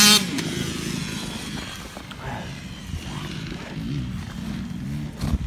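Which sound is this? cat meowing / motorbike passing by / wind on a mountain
motorbike passing by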